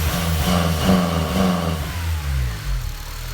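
Honda Civic Si FA5 with a K20Z3 engine held against the rev limiter, giving a loud, close, bouncing high-rpm drone that then drops away as the revs fall.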